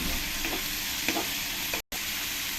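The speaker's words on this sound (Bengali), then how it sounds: "জল দিয়ে কিছুক্ষণ আমি মশলাটাকে কষিয়ে নেবো" An onion and spice masala sautés in a pan with a splash of water, hissing and sputtering loudly and close while being stirred, with a brief cut to silence near the end.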